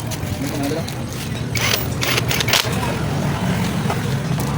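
A wrench tightens engine bolts while a Skygo 125 motorcycle engine is reassembled during an overhaul, giving a continuous ratcheting, clicking mechanical sound that is loud and close, with workshop noise behind it.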